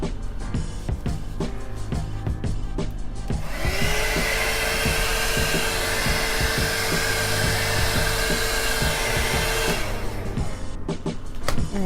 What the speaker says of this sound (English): I'm going to use a blow dryer to see if I can get some cells